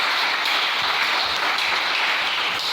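Worshippers at a French-language church service acclaim the Lord with a full round of applause, a thick, continuous wash of many hands clapping at close range, unbroken and without talk.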